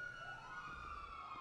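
Emergency vehicle sirens in a video game wail steadily with a rising and falling tone, loud and continuous across the short stretch, with no talk over them.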